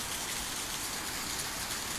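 Steady rain falls around a porch, a dense, even hiss of drops on surfaces that holds at a constant level throughout with no voices.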